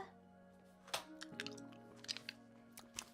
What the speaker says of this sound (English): you're hearing a lot of the cough drop ASMR too in this